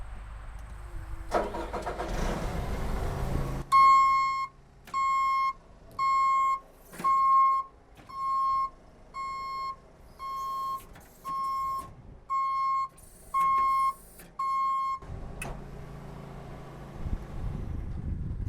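A Terex Achiever TC-55 tracked 58 ft aerial lift raises its high-lift outriggers: a loud engine rumble drops to a steady hum under a series of about nine sharp, evenly spaced electronic beeps, then the engine swells again.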